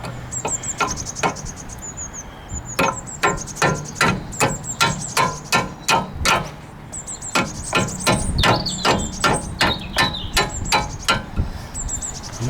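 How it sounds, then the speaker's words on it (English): A hammer taps a Honda Jazz driveshaft back into place, a long series of sharp metallic strikes, some single, some in quick runs of two or three, close and loud with ringing overtones. "Just a little tap back in."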